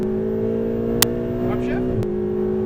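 Ferrari 488 GTB engine droning steadily under throttle with a sharp upshift click and brief dip in tone, a voice coaching over it throughout.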